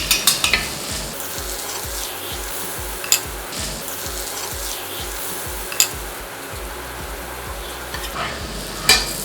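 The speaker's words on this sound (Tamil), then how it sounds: "கம்மியான தீயில வச்சு நல்லா மொறுமொறுன்னு வர வரைக்கும் இதை வந்து சுட்டு எடுக்கணும்" Parota roasts on a pan in butter and oil over a low flame, with a steady crackling sizzle throughout and a few sharp metallic taps from the spatula, with no talking.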